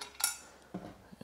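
Metal washer clinking as it is fitted onto a bolt on a Lagun table leg: a short bright tick followed by a soft scrape and a couple of faint taps, quiet and close.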